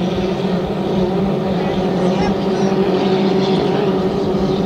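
Hydroplane racing boats roar on the river during the first lap of a race at Long Sault, running nearly side by side, a loud steady engine drone under a commentator's voice.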